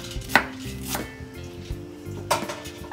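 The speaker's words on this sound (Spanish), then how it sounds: "Ahora vamos a picar finamente el cilantro." Sharp knife strikes on a cutting board finely chopping cilantro, a few quick chops spaced unevenly, close and crisp, with no talking.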